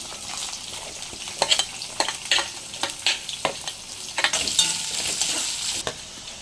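Sliced onions hit hot oil tempered with mustard, fennel, cumin and fenugreek seeds, crackling and sizzling up close with repeated spoon scrapes and stirring knocks; no talking.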